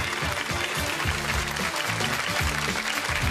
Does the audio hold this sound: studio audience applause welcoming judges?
yes